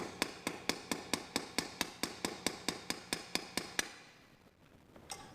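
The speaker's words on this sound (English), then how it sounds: "I just want to just peen this over, mushroom this over the top" Hammer peening a brass rivet rod over a washer on a leather tool belt, about sixteen sharp evenly spaced metallic taps close up, then a pause and one final blow.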